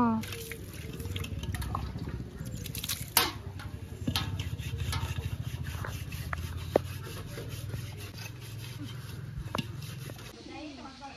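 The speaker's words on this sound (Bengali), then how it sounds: "এইদিকে আমাদের গাছে জল দেওয়া হচ্ছে।" Plants being watered at home: a soft, continuous splashing and trickling of water runs close by, with scattered knocks and rubbing and people talking over it.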